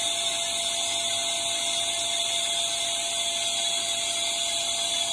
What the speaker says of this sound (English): I'm using a Hoover to vacuum all the dust.